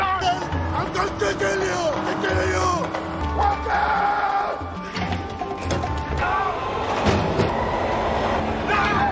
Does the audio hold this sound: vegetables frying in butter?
no